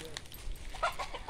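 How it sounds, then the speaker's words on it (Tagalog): A chicken clucks in a rural yard in Calauag, Quezon, a few short, close calls rising over low outdoor background noise. "May manok doon, naglilingkod."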